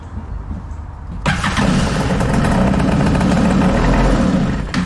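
A Kawasaki JS300 jet ski engine cranks and catches about a second in, then keeps running loud and steady with a rough, busy rumble through to the end, no voices over it.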